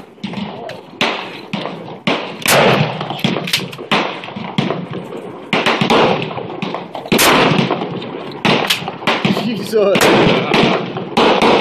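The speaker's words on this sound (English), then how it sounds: "Let me throw a buckshot in." Repeated loud gunshots from a shotgun loaded with buckshot ring out at close range at targets during an outdoor shooting session, with sharp blasts spread through the clip and excited voices in between.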